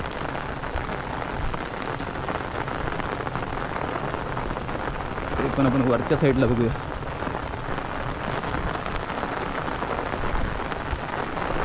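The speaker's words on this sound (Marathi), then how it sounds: "पाऊस तर बराच आलाय" Steady rain falls during the early monsoon's first rains in a rural field where crabs and fish are being caught, a dense continuous patter lasting throughout while someone talks briefly over it.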